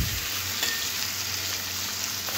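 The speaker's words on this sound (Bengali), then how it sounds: "চিংড়ি মাছগুলো একটু লাল করে ভেজে নেব" Prawns frying in a pan of oil for a Bengali potato and prawn curry, a steady close sizzle with faint stirring scrapes throughout, no voices.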